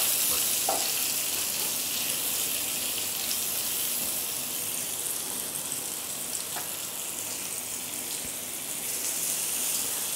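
Potatoes frying in a pan on a gas stove for potato dum pulao, a steady soft sizzle with faint crackles running evenly throughout at moderate level, no talking.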